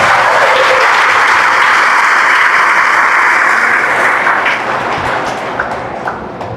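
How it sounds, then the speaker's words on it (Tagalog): A congregation applauding loudly during a homily at the opening of a Jubilee Door at the Bataan District Jail, a sustained roar of dense clapping that fades gradually toward the end. "pumalakpak ng mas malakas"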